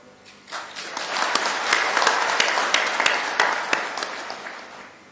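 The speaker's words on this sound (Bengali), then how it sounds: "এই হাততালি আপনাদের প্রাপ্য" An audience at a police week opening ceremony bursts into applause, many hands clapping together in a dense, sustained wave that swells and then tapers off.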